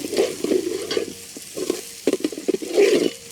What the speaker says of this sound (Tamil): ஒரு 200 கிராம் பொடியாக நறுக்கின வெங்காயம் சேர்த்துக்கலாம்.